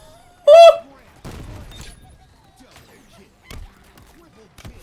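Gravity hammer in Halo Infinite multiplayer, one sharp loud impact near the start followed by quieter whooshes and thuds, with talk over the top.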